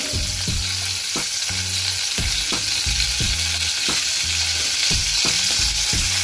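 Garlic and dry pepper fry in hot oil for a sour tamarind pulses dish, giving a loud, continuous sizzle broken by rhythmic scraping strokes of stirring, roughly two each second, with no voices.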